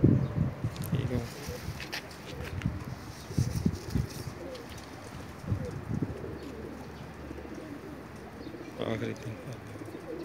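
Pakistani pigeons cooing in a loft, low soft coos repeating in loose bursts close by, with someone speaking over them.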